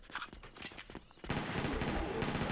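Rapid bursts of pistol fire ring out in the zombie shooter game Zompiercer, a loud sustained volley after brief scattered game noises.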